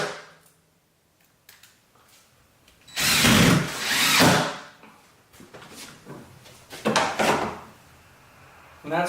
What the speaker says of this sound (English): So you go around and you put screws in all of them.